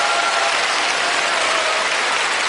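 Audience applause fills the room, a dense, steady wash of many hands clapping at even loudness from start to finish, with no voices breaking through.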